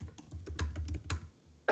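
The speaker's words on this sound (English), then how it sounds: "I hear you typing" Typing on a computer keyboard comes through an open microphone during an online call, as a quick burst of close, uneven key clicks followed by a short pause and one sharper final tap.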